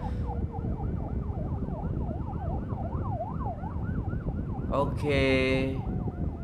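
An ambulance siren wails through traffic, its rising and falling tone steady under road noise, with a sharp burst of a second siren or horn near the end and a brief spoken word.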